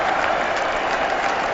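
Crowd at the Oval applauding during an England versus India Test match, steady dense clapping and cheering that fills the whole moment without a break.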